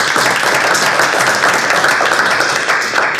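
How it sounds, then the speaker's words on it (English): An audience gives loud, close, continuous applause for a crypto security panel, steady and dense throughout. "I would like everybody to give a round of applause to our panel here."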